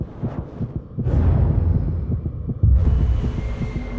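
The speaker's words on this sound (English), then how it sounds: "I can hear my heartbeat in my ears." A heartbeat thuds in a steady, slow rhythm, heavy and close, with a low hum underneath and a dramatic swell of tension building around it.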